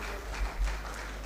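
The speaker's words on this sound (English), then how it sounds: "Please, a round of applause for him, please." Brief, faint burst of audience applause during the opening ceremony of a conference, soft scattered clapping over a low background hum.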